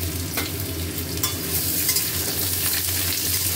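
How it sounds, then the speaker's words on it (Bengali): Close, loud, steady sizzling of potatoes frying with spices in oil in a wok, the crackling hiss running continuously alongside light stirring scrapes. "আলুটাকে খুব ভালো করে ভেজে নেব"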